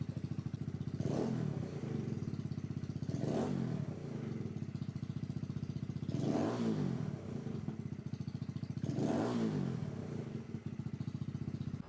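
A Kawasaki Z125 PRO small single-cylinder engine fitted with a Power Commander 5 idles nearby with a fast, even putter, and four brief throttle blips rise and fall at regular intervals.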